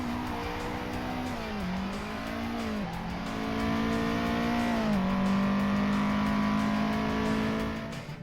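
A car engine in sixth gear in the Assetto Corsa racing game drones steadily and loudly, its pitch dipping and climbing with small gear and throttle shifts before settling into a sustained high-revving tone.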